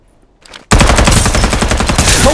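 Automatic gunfire in the battle-royale shooter Farlight 84, loud and sustained in a rapid rattling burst after a short quiet lead-in with faint game sounds.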